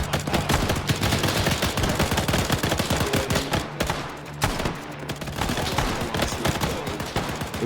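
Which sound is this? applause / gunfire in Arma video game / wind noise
gunfire in Arma video game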